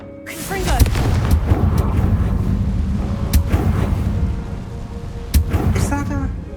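The Confringo blasting spell in Hogwarts Legacy sets off loud, booming explosions with rumbling low impacts and a few sharp cracks, set over continuous game ambience.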